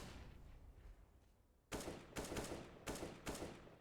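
Gunfire in a Counter-Strike match on the Overpass map during an ESL Challenger League game, four sharp bursts in quick succession after a quiet ambient stretch, close and loud.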